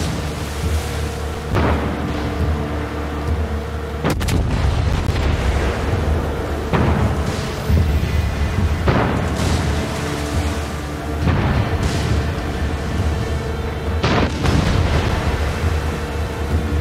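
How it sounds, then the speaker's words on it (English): Fireworks burst repeatedly in Far Cry 6, a series of deep booms and crackling pops every couple of seconds over a continuous rumbling background, fairly loud and with no talking. "Check out the fireworks."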